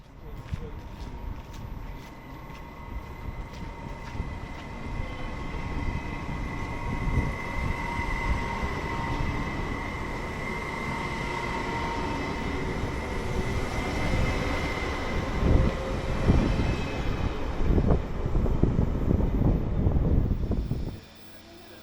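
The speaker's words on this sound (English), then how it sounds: "we can enter platform 1 and go have a look at the varied train traffic that serve this station" Trains on a platform at a Stockholm station, a broad rumbling roar with a steady tonal hum and clattering that builds and churns, and speech is likely present amid the traffic.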